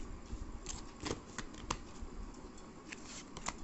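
Tarot cards are shuffled close up in soft, brief flicks and slides that are spaced irregularly over a low steady background hum.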